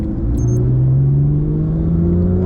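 A Porsche 911 GT3 992.1 pulls hard on the Spa track, its engine note climbing steadily as it accelerates, heard loud and close from inside the cabin with a constant low rumble beneath.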